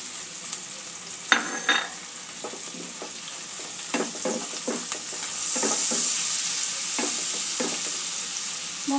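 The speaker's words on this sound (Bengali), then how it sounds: "মশলাটা একটু ভালো করে কষিয়ে নেব।" Turmeric and chili powder sautéing for a Bengali pabda fish curry, a steady close sizzle punctuated by repeated scraping strokes of a spoon against the pan, irregular and fairly loud.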